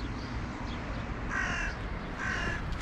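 Crows give two loud, close caws, harsh and rasping, over the steady hiss of rain on a wet spring day.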